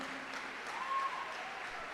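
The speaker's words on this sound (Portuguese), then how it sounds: "aplaude mesmo" A church congregation keeps applauding as a soft, dense wash of clapping, fairly distant and even throughout, with no distinct individual claps standing out.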